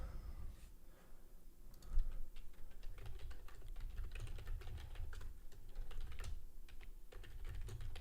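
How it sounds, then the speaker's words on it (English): Rapid typing on a computer keyboard, with quick irregular key clicks running continuously close to the mic at low volume over a soft background rumble. "If you do hear typing, that is me just typing in my private community, just making alerts."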